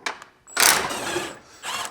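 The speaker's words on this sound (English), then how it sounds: "Now I'm gonna remove the bolts all the way." Subframe bolts being removed on a Maserati Quattroporte GTS V8, short close ratcheting bursts from a hand tool with brief pauses between them.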